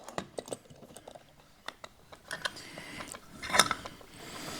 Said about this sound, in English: I'm going to reach in here with some fairly deep clamps